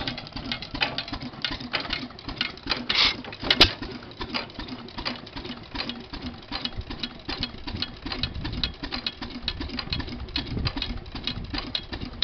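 An antique engine at an Independence Day engine run runs steadily nearby with a rapid, even chuffing and ticking rhythm, fairly loud and unbroken.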